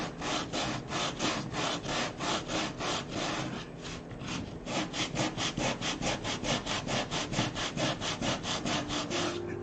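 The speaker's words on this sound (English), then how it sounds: "look how thick that sandpaper is" Hand sanding of hardened Bondo filler with thick, coarse sandpaper, a steady run of rhythmic rasping strokes, close and loud, with a brief pause partway through.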